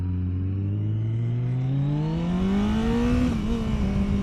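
A Kawasaki ZX14R and a Yamaha MT-10 ride on newly changed sprocket gearing, with a close, loud engine drone rising steadily in pitch as it accelerates, no talking.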